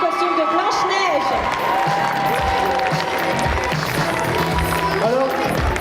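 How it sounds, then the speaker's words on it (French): An audience at a cosplay contest claps and cheers throughout, steady crowd applause with a voice talking over it on a loudspeaker. "n'hésitez pas à applaudir"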